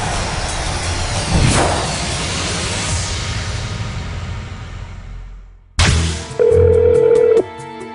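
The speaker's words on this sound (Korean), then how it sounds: "제작진에게 걸려온 한 통의 전화." A telephone rings once with a sustained electronic tone after a burst of static noise, loud and close, calling the production team of a Korean paranormal TV program.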